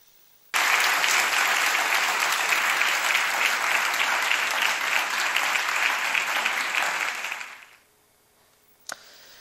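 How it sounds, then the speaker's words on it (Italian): A theatre audience gives the artists long, warm applause, a loud even roar of clapping that holds for several seconds, fades out, then leaves a brief click in near silence. "convinti applausi."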